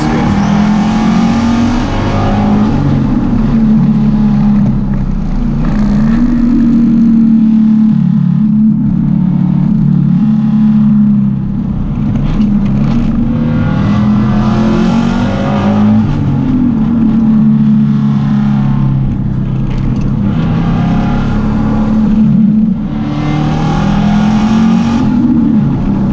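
A turbocharged Subaru Forester GT race car drives and accelerates, its engine droning loudly and continuously with repeated rises and falls in pitch as it revs through corners, heard from inside or close by.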